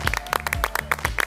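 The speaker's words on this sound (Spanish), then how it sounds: "No, está bien, no, está bien el aplauso." Scattered clapping from a morning TV studio audience, a handful of uneven, distinct claps close by with a low murmur of voices underneath.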